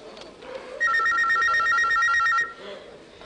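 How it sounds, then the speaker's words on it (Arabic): A telephone rings loudly in a burst of electronic trilling pulses lasting under two seconds, set off against quieter room sound before and after. "تليفون."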